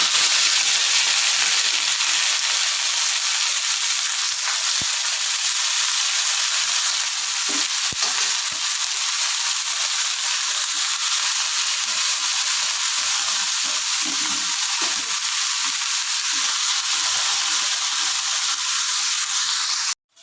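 Chopped radish greens fry in hot oil with whole-spice tempering, giving a loud, continuous close hiss and sizzle for a long stretch, with occasional faint stirring knocks.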